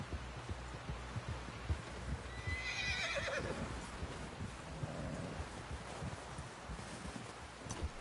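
A horse whinnies in the video game Red Dead Redemption 2, one rising then falling neigh in the middle of the clip, heard over steady clip-clop hoofbeats and rustling ambience at moderate distance.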